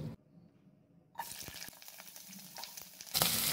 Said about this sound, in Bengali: এবার দিয়ে দিচ্ছি বড় সাইজ করে কেটে রাখা পেঁয়াজগুলো।